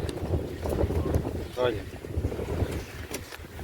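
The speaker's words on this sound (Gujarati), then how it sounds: "ને પવન ફૂલ ઉપડી ગયો." Strong gusting wind on an open rooftop during rain, blowing as a steady broadband rush with microphone buffeting, while a person talks over it throughout.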